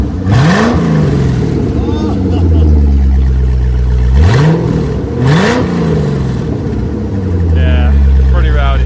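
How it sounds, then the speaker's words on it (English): A Corvette engine revving loudly up close, several sharp throttle blips rising and falling over a rumbling idle, with people talking and cheering in the background. "Come on, give it a good rev."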